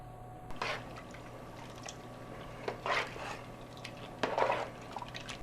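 Water pours in a few short gurgling bursts into a pot of venison chili seasoned with jalapenos, ground clove and cinnamon, set over a low steady kitchen hum with no talking.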